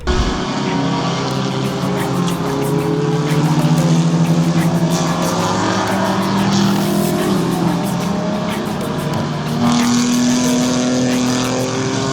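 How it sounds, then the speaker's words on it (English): IMSA race cars lap the track at Laguna Seca, engines droning loudly and continuously with rising and falling pitch as several cars pass and shift, no talk over them. "as you can hear, cars are on track"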